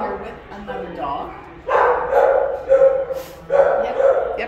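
Dogs at an animal shelter bark in loud, echoing bursts close by, several deep barks repeating over a few seconds, with someone talking over and between them.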